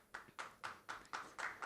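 An audience at a conference session on just energy transition in Maharashtra claps, six evenly spaced hand claps in a steady rhythm, moderately loud and alone without talk.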